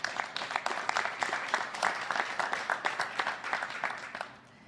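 Light, scattered applause from a small crowd at an Ontario Liberal campaign speech, a steady patter of claps that thins out and fades near the end.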